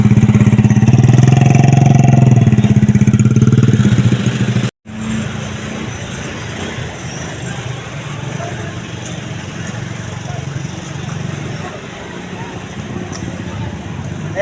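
A motorcycle engine runs loudly nearby, then drops to a lower steady drone after a brief cut, with voices talking over it.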